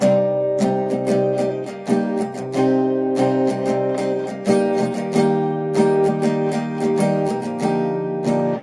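A guitar strums a chord progression in a steady rhythm, bright and ringing, with no singing or talking.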